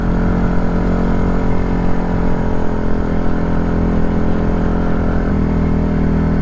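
A 2010 TGB Blade 550 SL 4x4 quad runs steadily along a dirt track at about 40 km/h, its engine a loud, continuous close-up drone throughout with no talking.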